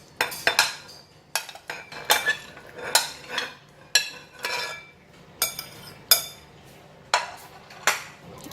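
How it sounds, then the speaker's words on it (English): Metal utensils clink and scrape against a bowl while tear-shaped pan mee noodles are placed into it for chilli pan mee soup, giving a string of sharp, close clatters in an irregular rhythm with no talking. "So I'm going to put this noodle inside the bowl."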